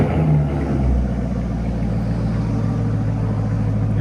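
A 2015 Chevy Corvette with a 6.2L V8, high-flow cats and straight-pipe exhaust idles loudly and close up, a deep steady rumbling burble that holds without revving for the whole stretch.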